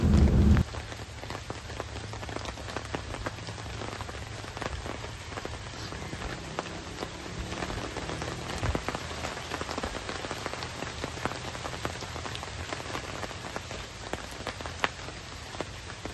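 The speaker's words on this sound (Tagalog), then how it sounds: "Maulan nga pagkagising ko ng umaga." Heavy morning rain pours steadily on a solo campsite in a nature camp, a dense close patter of drops on surfaces lasting throughout, with no voices.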